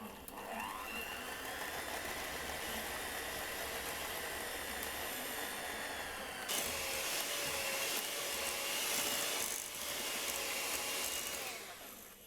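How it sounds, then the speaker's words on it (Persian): An electric hand mixer whips homemade cream in a steady, close, continuous motor whir. The pitch shifts partway through as the thickening cream loads the beaters. "میتونین با همزن اونو دوباره هم بزنین تا یک کرم صاف یک دست"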